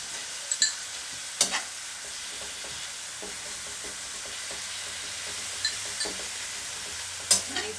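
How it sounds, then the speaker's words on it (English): Beef frying in a wok over high heat, a loud constant sizzle with repeated sharp clacks of a utensil tossing and scraping the meat, close up and without talk. "So cook that beef up 4 to 5 minutes. Now, I've got that on quite a high heat there."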